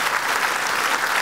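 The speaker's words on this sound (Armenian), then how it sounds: "եկեք բարձր ծափարենք։" An audience claps steadily at a humour club stage show, a dense, loud wash of applause throughout.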